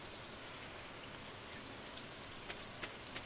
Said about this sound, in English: What is with rainy weird noise?